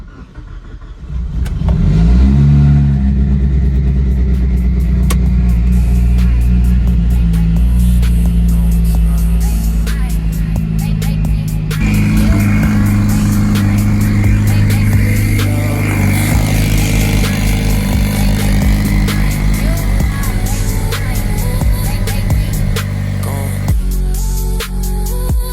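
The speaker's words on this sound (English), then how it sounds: "time to fire up Tyler's car, EVO 9, the old Black Beauty. See how this cold start does." A Mitsubishi Evo 9 built to 950 whp on E91 fuel fires up from cold with a loud crank and catch, then settles into a heavy, rough, steady idle with occasional rises in revs, close and alone.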